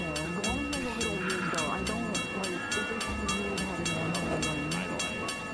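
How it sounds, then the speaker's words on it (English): A train passes in the VRChat video game, a loud steady rumble with rhythmic clicking and a faint whistle-like tone, with voices talking over it throughout. "Can't hear you over the train."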